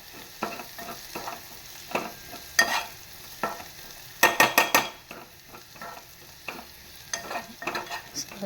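Jackfruit pieces fry with softened onions over low heat, a light sizzle broken by irregular stirring scrapes and a quick burst of spoon clatter against the pan.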